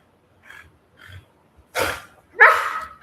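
A pet dog named Gubio in a quiet home gives two soft whimpers followed by two loud, close barks in quick succession.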